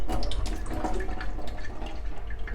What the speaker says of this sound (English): this is a foot pump tap